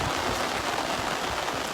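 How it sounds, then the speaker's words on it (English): Heavy pouring rain on an outdoor mountain walk, a dense, steady hiss of drops on the ground close around, continuous and loud with no voices. "I'm going this way in the pouring rain."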